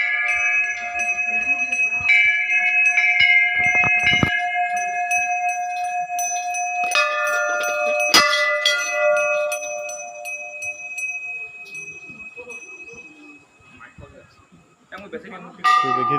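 Metal temple bells at Maa Ghanteswari temple ring close and loud in repeated overlapping strikes with long sustained tones, fading toward the end as a voice speaks briefly.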